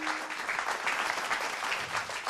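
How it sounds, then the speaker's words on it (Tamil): Enthusiastic applause from an audience at a stage event honouring a silambam martial arts teacher, steady dense clapping that fills the whole stretch without a break. "ஒரு உற்சாகமான கைத்தட்டலோடு"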